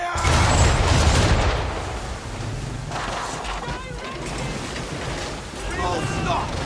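Ship cannon fire from a naval battle in Assassin's Creed III, heavy booming blasts over crashing ocean and creaking hull, loud and close at the start, with shouted commands from voices in between.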